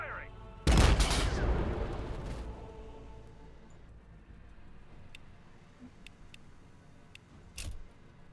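Tank gun firing in the Warhammer Battlesector strategy game, one loud broadband blast that rumbles away over a couple of seconds, followed by quieter battlefield ambience and a sharp transient near the end.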